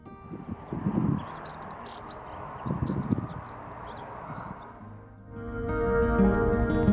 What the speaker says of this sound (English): I spotted my last bird of the day, which was this dunnock singing at the top of a tree